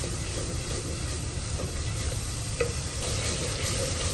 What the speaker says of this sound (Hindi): अब मैं इसका मसाला अच्छी तरह भून लूँगी।